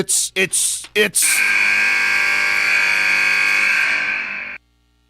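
A buzzer at a high school boys' basketball game, Greensburg at Jac-Cen-Del, marks the end of the quarter. It follows a few brief bursts of crowd or voice and sounds as one loud, steady blare lasting over three seconds before cutting off.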